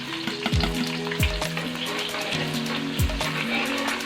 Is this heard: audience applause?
no